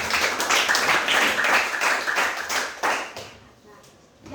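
Students in a classroom clap together, a lively patter of hands that rises and then fades away toward the end, with some voices mixed in.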